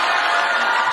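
A political rally crowd cheers in a brief, continuous roar of voices, loud and close with no single voice standing out.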